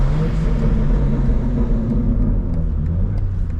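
A BMW M4 fitted with new downpipes, its engine running steadily and close by, a continuous loud low rumble with slight revving swells and no voices.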